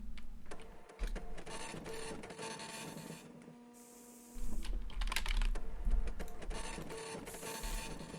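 A fax machine in the SS14 video game printing money gives a continuous mechanical whirring and clattering, with a steady hum underneath and a louder, busier stretch partway through.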